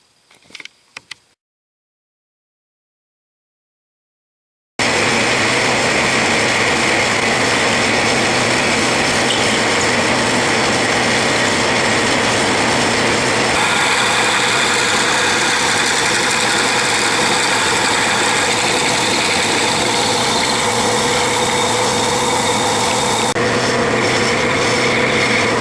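Metal lathe steadily running while machining a South Bend shaper handwheel, a continuous loud mechanical drone with cutting noise that starts after a few seconds of near silence and holds without talk.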